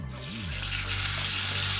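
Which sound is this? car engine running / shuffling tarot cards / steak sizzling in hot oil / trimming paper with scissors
steak sizzling in hot oil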